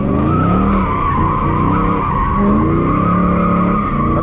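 The tires of a six-speed manual Dodge Challenger squeal loudly and continuously as it spins in a donut, with the engine droning underneath, close and without talk.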